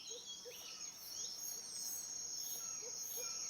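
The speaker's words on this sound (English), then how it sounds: "You hear crickets." Crickets chirp at night in a continuous high, shrill trill, with a few faint bird-like chirps scattered underneath.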